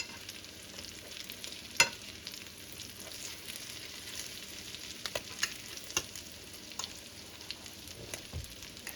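Southern fried fish cakes sizzle steadily in a crowded pan of hot oil, a continuous close hiss broken by occasional sharp pops and scrapes as they are turned with a fork.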